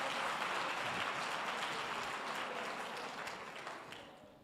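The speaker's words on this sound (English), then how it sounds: "You can clap your hands." Faint audience clapping at a community gathering in Thabanchu, a soft, even patter of many hands heard from a distance that slowly fades out.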